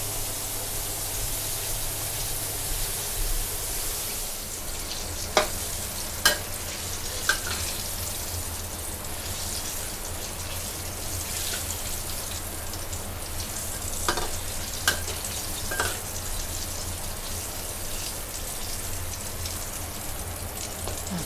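Fried catfish is stir-fried dry with holy basil flowers, fingerroot and green peppercorns in a wok. A loud, continuous sizzle runs throughout, broken by a few sharp clanks of the spatula against the pan.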